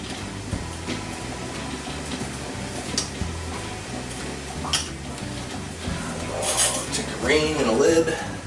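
Metal ring and lid clinking against a glass canning jar of home-preserved green beans, several light clinks and scrapes with a brief twist near the end, close by in a kitchen.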